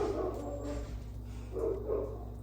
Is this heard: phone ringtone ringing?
no